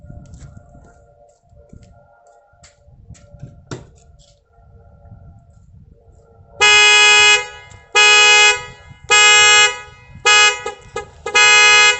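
A Honda S2000's aftermarket tilt-sensor alarm is triggered, with the siren inside the car and the horn outside. After quiet background noise, five loud, pulsing blasts come in a rough rhythm, the last ones shorter.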